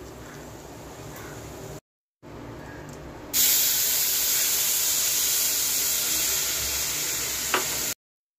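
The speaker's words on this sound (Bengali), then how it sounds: "আর সামান্য একটু গোটা জিরে ফোড়ন দিয়ে দিচ্ছি।" Whole cumin seeds drop into hot oil with cloves in a Bengali kitchen, setting off a loud, steady sizzle that starts suddenly and holds strong until it cuts off.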